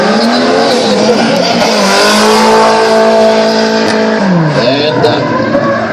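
A drift car on a track at a drift event revs hard and loudly, engine pitch rising and holding, then dropping as the car spins around coming out of turn one, with tires squealing under the engine.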